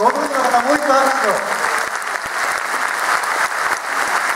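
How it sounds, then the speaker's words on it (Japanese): Renewed applause from the audience at the 2015 Sagan Tosu new-team presentation, a dense, sustained round of clapping with a speaking voice over the first second or so, then clapping alone. "ご存知の方もう一度拍手を"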